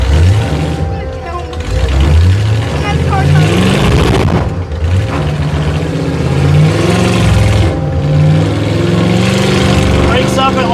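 A carbureted Oldsmobile Cutlass engine revs loudly and roughly, breaking up and stumbling around 2,600 RPM instead of climbing cleanly, with uneven surges throughout and talk mixed in over the engine.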